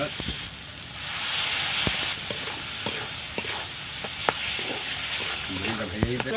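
Spices with cumin and coriander powder sizzle and get stirred in a pan for tangra fish curry with eggplant, a steady frying hiss broken by sharp scraping clicks of the spoon, close and continuous.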